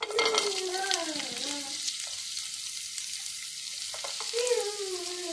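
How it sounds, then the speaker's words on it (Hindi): Cashews and almonds sizzle softly in a pan with oil, with quiet stirring and scraping throughout while someone speaks over the frying. "इसके साथ ही हम अब काजू और बादाम को भी फ्राई कर लेंगे।"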